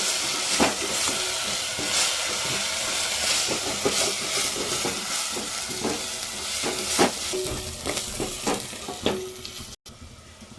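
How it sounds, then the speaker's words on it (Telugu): Onions fry in a pan for Telugu-style egg dal, giving a steady close sizzle with occasional stirring clicks and scrapes throughout, no voices. "ఇప్పుడు ఆనియన్స్ బాగా ఫ్రై అయినాయి ఫ్రెండ్స్."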